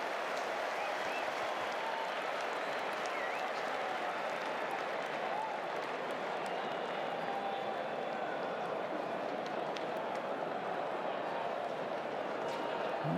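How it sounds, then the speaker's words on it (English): A stadium crowd at a New Zealand versus Australia T20 international cricket match in 2010 makes a continuous, distant roar of yelling and cheering, with a broadcast commentator's voice faintly mixed in. "You're wondering what all the yelling's about."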